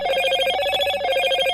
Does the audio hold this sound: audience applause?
no